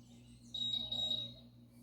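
A workout interval timer gives a single high-pitched electronic beep during a static stretching routine. The steady tone lasts under a second and is faint against a quiet background.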